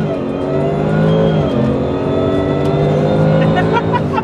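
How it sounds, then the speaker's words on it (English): A Ford Shelby Super Snake with a Whipple supercharger accelerating hard from inside the car, a loud, steady supercharger whine layered over the engine roar as the revs climb, dip briefly at a shift, then climb again. "you can hear the Whipple supercharger in the Shelby. The thing's just screaming right along."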